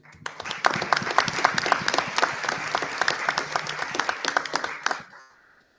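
Warm, steady applause from the audience at a board of education meeting celebrating retiring school workers such as bus drivers and custodians; many hands clap together for roughly five seconds, then fade out.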